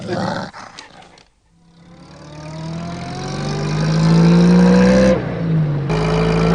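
A dog sound effect for a radio play: a rising growling roar builds from near silence, swells loudly and holds, briefly dips, then continues alone without any voices.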